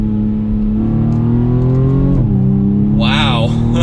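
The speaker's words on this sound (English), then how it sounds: "And you'll hear that exhaust just a little bit, where you can downshift to a 2nd gear." A 2021 BMW M235i Gran Coupe xDrive in sport mode revs from the cabin, its exhaust note rising steadily, dropping sharply at a downshift and climbing again. A voice talks over it near the end.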